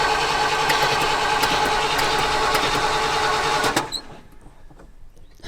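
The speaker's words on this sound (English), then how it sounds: "No, it's a carbureted engine. And it's been sitting for a while." A carbureted GMT400 truck engine that has sat unused for a while runs with a fast, busy clatter for several seconds and then abruptly cuts out, leaving a quiet room with no talking.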